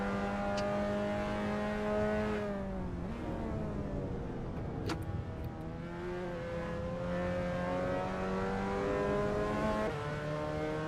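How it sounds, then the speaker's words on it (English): A car drives steadily and then accelerates, its engine drone rising and falling in pitch with revving swells, close and continuous over the whole stretch without talking. "It's quite fun, this car around here."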